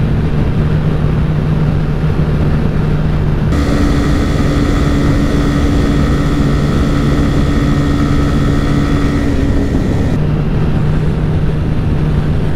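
TVS Raider 125 and Bajaj Pulsar 125 motorcycles in a drag race, a loud sustained engine drone with steady whining tones rising in the middle section, close and continuous without talk.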